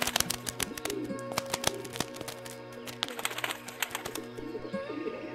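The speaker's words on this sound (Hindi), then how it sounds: "क्या कबूतर?" Pigeons coo softly amid a steady stream of sharp clicks and flutters, with a low hum running throughout.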